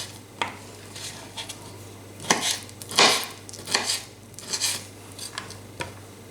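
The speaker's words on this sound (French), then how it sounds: "j'ai pris des fruits secs que je vais couper en tout petits dés à l'aide de mon couteau" A kitchen knife dices dried fruit, walnuts, whole almonds and dates on a board into tiny pieces for a Ramadan iftar meal, giving irregular sharp knocks and taps spaced a second or so apart over low room hum.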